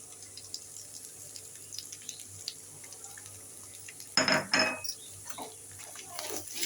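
A spatula scrapes and clatters through ground spice masala cooked over fried onion-ginger-garlic paste in a pan for an egg and potato curry, one sharp burst of metal stirring and a few lighter scrapes amid a quiet, soft background.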